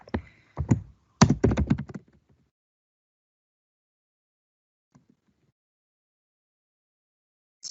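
Keys clack on a computer keyboard during a classroom software demonstration, a dense burst of taps over about two seconds, then near silence with a few faint clicks.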